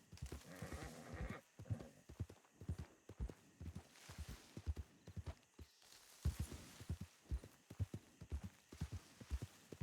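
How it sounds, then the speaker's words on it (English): Horse hooves clip-clop at a walking pace in Red Dead Redemption 2 (RedM), a steady rhythm of sharp, close, moderately quiet hoof strikes with a short pause partway through. "she's a terrible horse that doesn't listen"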